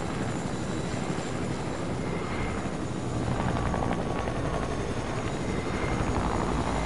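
A Fortnite helicopter drones loudly and continuously, its rotor whir and engine roar steady and close for the whole stretch, with no talking.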